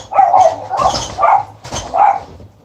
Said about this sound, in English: but I do want to get this dog in here